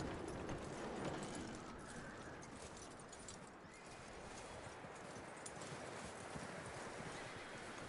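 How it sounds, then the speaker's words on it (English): Hooves of a horse in the Red Dead Redemption video game clip-clop steadily along with a whinny, set in a dense, continuous wash of game sound and ambience, with no talking. "That looks like a decent horse."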